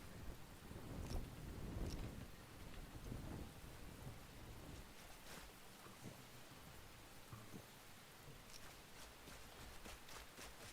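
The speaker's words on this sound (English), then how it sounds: "Just the sounds of the rain." Steady rain in the video game Enshrouded patters and hisses with low rumbles of thunder rolling in the distance, fairly quiet, no talking.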